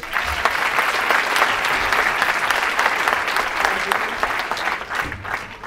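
Dense, lively applause from the audience at a French variety show, close and continuous for several seconds before tapering slightly at the end.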